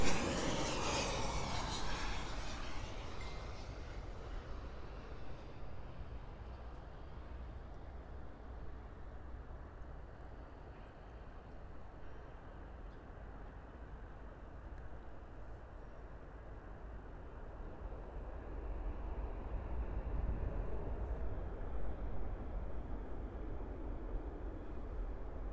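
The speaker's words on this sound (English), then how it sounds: "here is an American Airlines Boeing 737-800 arriving in from San Salvador" An American Airlines Boeing 737-800 arrives at Miami International Airport, its jet roar loudest at first and then fading into a long, broad rumble that swells again slightly toward the end, heard from a distance.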